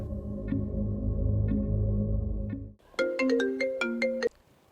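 A phone ringtone from an outgoing call: a low, steady electronic melody runs for a few seconds, then a brighter, higher tune of quick repeated notes plays before cutting off abruptly.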